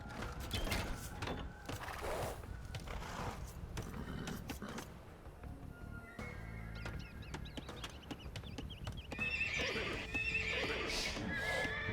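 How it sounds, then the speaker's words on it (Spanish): Scout cavalry horses in the video game Age of Empires II, neighing and whinnying amid clip-clopping hooves, set against a busy game soundscape with faint bird calls; a brief spoken line occurs near the middle. "Caballos de exploración."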